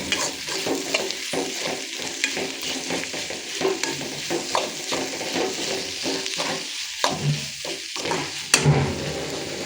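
A pan of boiled potato filling being stirred and mixed with salt, a steady run of scraping and clattering strokes against the pan with a faint sizzle underneath, close and continuous.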